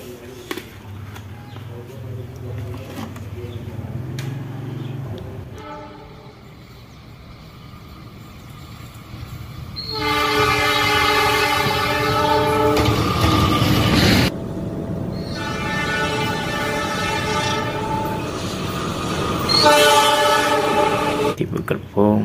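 A train hauled by a CC206 diesel locomotive rolls past, its horn sounding in long sustained blasts twice over a steady rumble, fairly close and loud; a voice is faintly present.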